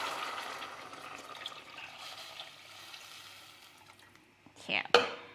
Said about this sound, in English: So just put the chicken stock inside.